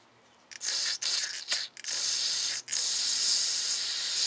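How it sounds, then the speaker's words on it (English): Aerosol carburetor cleaner sprayed through the main jet of a Tecumseh snowblower carburetor, a close, loud hissing blast in several short bursts followed by one long continuous spray. "You should be able to even spray down through here."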